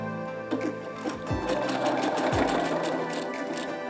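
A sewing machine stitches a fabric face mask in steady rapid bursts, its needle chatter close and clear, pausing briefly between runs with no talking.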